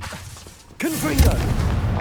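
Confringo fire spell blast in Hogwarts Legacy: a quieter lead-in breaks into a sudden loud booming burst that keeps rumbling, with a voice calling out over it.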